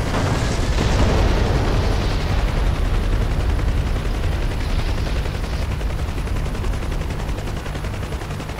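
Mk 84 bombs detonate danger close, a loud sustained roar of blasts and rumbling that fills the whole span with dense low booming, heavy and continuous without speech.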